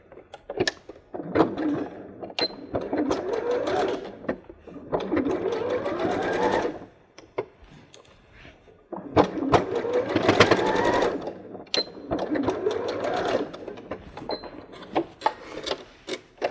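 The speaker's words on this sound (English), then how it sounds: "Use the same mark on your machine for the opposite corner." A sewing machine stitches across the end of a knot strap bag in several long bursts, starting and stopping with short pauses between runs, close and loud.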